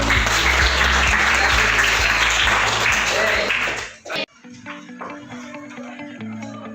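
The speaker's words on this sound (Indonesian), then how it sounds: "Tepuk tangan lagi." Participants at an Indonesian teacher-training coaching session applaud, a strong burst of many hands clapping that cuts off abruptly after about four seconds, followed by quieter room sound with low hum and faint voices.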